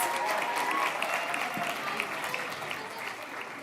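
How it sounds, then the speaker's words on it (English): Dense, steady applause from an audience at a youth initiative launch event in South Africa, loud and continuous throughout, fading slightly toward the end. "Shall we give them another round of applause?"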